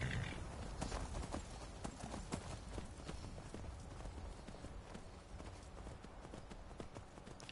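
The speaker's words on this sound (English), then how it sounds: "Horse, take me to my house." Rhythmic hoofbeats of a horse galloping in the video game Skyrim, a steady clip-clop at low level with faint background sound throughout.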